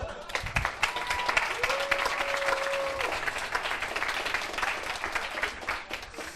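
A crowd of audience members at a startup pitch event claps and applauds continuously, a dense steady patter with a few cheers and voices mixed in.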